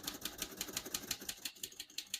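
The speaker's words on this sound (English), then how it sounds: "We're going to keep that on single for now and finish typing." Brisk, fairly even keystrokes on a 1936 Royal O Model portable typewriter, sharp mechanical clacks in a steady rhythm, quiet and close with no voices.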